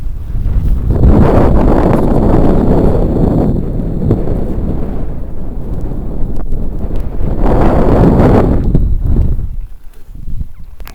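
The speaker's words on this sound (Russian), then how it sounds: "Там ветер дует." Strong, continuous wind buffeting a microphone on a frozen lake during winter ice fishing, a loud low rumble that surges and eases in gusts and drops off near the end.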